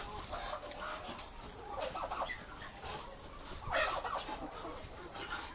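Domestic turkeys grazing and mating outdoors in late autumn in a village yard: a steady murmur of soft clucks and gobbling calls, with a few louder bursts of chatter over constant background noise.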